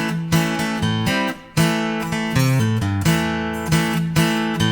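A beginner version of a riff is picked on an acoustic guitar as a looping, bouncy pattern of plucked notes with regular attacks, close and clear, with no voices.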